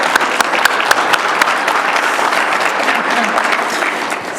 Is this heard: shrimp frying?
no